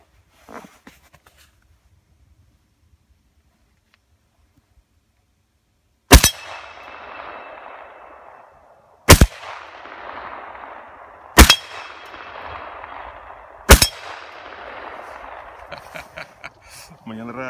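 A bent, bullet-riddled metal gong rings out four times as it is shot, each sharp crack followed by a bright clanging decay, spaced a few seconds apart, with faint talk before the shots.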